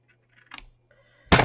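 A pair of scissors makes a quick, close snip through paper, with a fainter crisp cut just before it.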